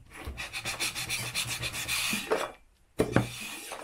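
Scraping old gasket material, original paint and glue off a flat engine gasket surface, a steady rasping rub for about two and a half seconds, then a brief pause and a sharper scrape.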